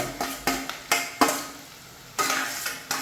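Chopped ingredients for a sardine curry go into a hot pan and sizzle loudly, with a series of sharp stirring and scraping strokes against the pan in an uneven rhythm.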